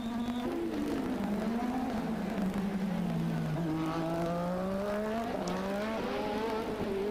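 A 1985-season Formula 1 race car engine screams loudly and continuously at high revs, pitch rising and dipping through gear changes as the car races on track.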